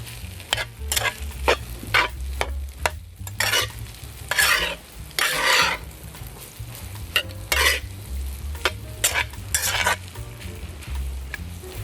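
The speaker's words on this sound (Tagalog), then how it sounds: "nakakapawis magsangag dahil kailangan mong basagin yung mga tutong-tutong" Garlic fried rice (sinangag) being stirred and fried in a pan, with a steady sizzle under repeated scraping and clattering strokes of the spatula breaking up crusted rice, close and fairly loud, with no talking.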